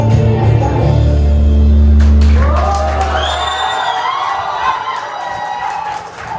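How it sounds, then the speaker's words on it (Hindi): A college freshers' party audience cheers, whoops and shouts loudly after a performance, the crowd noise swelling over fading music and then thinning into scattered calls. "बस पर जोरदार तालियां हो जाए। तालियां बजनी चाहिए।"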